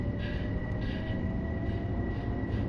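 A Metro North commuter train in a PS4 train simulator rolls along with a steady low rumble of wheels and motors, a faint high whine above it and soft rhythmic clicks over the rail joints.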